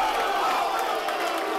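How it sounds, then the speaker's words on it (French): Crowd at a French rap battle cheering and applauding, a dense steady wash of claps and voices that stays loud and unbroken across the moment. "Lui-même l'applaudit."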